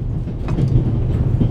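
A train in the video game The Raven Remastered rolls along its rails with a loud, close, steady low rumble and faint rhythmic clatter.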